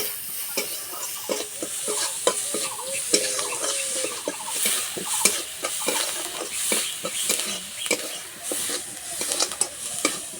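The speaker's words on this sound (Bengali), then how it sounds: "পেঁয়াজটা হালকা করে একটু ভেজে নেব" Sliced onion with chilli powder fries lightly in a pan under a soft, constant sizzle, while a spatula scrapes and taps against the metal in a busy, irregular stirring rhythm close by.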